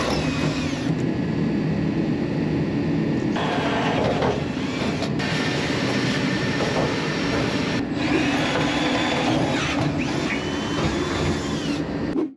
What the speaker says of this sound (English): I'm gonna re-drill this just a touch over.